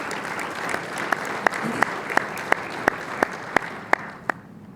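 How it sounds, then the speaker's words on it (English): Guests at a PGA awards luncheon applaud in a steady wash of clapping, joined by one person clapping in slow, evenly spaced, sharp beats that stand out above the rest before the sound fades. "let's give her a round of applause"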